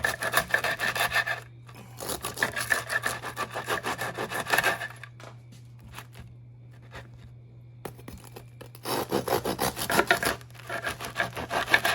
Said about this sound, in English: take a serrated knife and just cut this into little strips